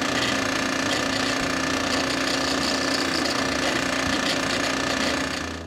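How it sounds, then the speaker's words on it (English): Holes being drilled in a printed circuit board to let a speaker's sound through, a loud continuous rattling, buzzing drill noise that runs steadily without pause and fades only at the very end. "I remove the PCB and drill a few of them."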